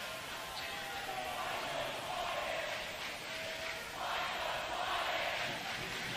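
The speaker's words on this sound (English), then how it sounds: "you can hear Skyview is in it. Skyview crowd has come alive." Crowd noise from Skyview fans at a boys high school basketball game against Union, a steady loud roar of cheering and shouting that swells higher toward the end.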